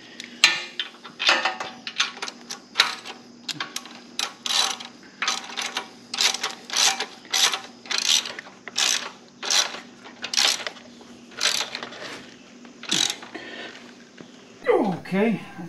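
Ratchet wrench fitted with a 17 mm socket tightening the engine guard bolts on a Moto Guzzi V85TT, a long run of rapid clicking bursts close by, with someone talking in places.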